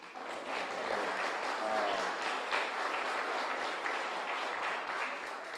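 Sustained crowd applause for guests fills a hall at a Louisiana state representative's resignation announcement, steady and moderately loud with no clear breaks.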